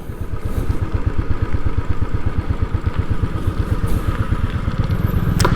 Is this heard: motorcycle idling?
yes